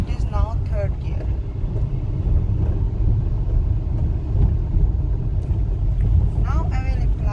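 A manual car rolls along in third gear, its engine and road rumble loud and constant, with a voice talking over the drone now and then.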